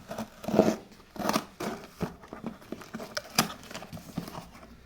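An Amazon box for a phone package being opened by hand, with a handful of short scraping, cutting and tearing bursts spaced irregularly, close and moderately loud, no one talking.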